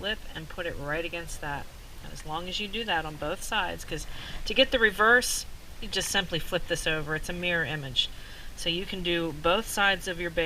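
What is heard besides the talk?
None of the usual background noises is heard.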